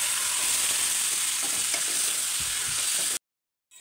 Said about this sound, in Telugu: మనం మటన్ ఉడికించి పక్కన పెట్టుకున్న మటన్ ఇందులోనే వేసుకోవాలి.